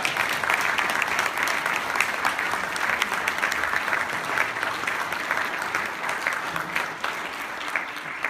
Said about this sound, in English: And let's all give John a round of applause